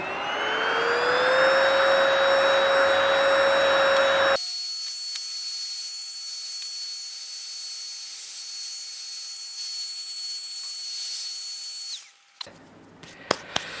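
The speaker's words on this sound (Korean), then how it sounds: "청소기." A vacuum cleaner runs loud and steady while cleaning the parts of a computer opened up for a motherboard swap. Its pitch shifts partway through, it carries on until it cuts off near the end, and a few clicks and handling knocks follow.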